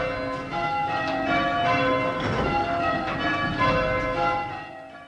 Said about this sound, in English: Can we just ring 4 of our 10 bells for you?